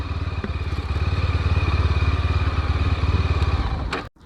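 A motorcycle engine runs close by with a steady, throbbing chug, then cuts off abruptly right at the end as the bike is stopped.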